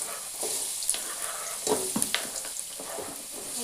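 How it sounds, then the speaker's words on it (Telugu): Onions fry in hot oil with a soft, close sizzle, and a few sharper scrapes and clinks from stirring come through without any talk. "అయితే ఆయిల్ హీట్ అయినాక ఆనియన్స్ వేసి, ఈ ప్రాసెస్ అందరికీ తెలిసిందే"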